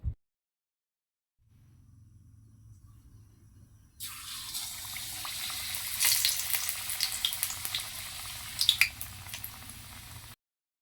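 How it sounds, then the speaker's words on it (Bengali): Yardlong bean pakoras coated in gram flour and flour batter drop one at a time into hot oil, starting from a low hum into a bright rising sizzle with scattered pops, then stopping abruptly. "চুলার গরম তেলে একটা একটা করে ভেজে নিব"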